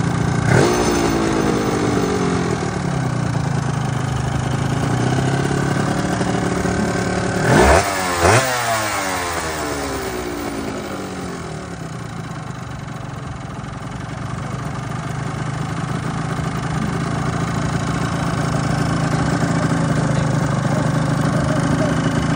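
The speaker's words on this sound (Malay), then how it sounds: "Saya punya viewer nak dengar bunyi motor ni." A classic motorcycle at a retro vehicle event is heard close up, its engine running and being revved, with sharp rising and falling throttle blips, then settling into a steady, loud idle.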